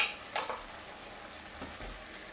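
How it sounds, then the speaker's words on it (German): A cream sauce with pointed cabbage, potatoes and small chopped tomatoes bubbles in a pan as it is briefly stirred, a soft continuous sizzle with a light scrape near the start. "Alles kurz umrühren"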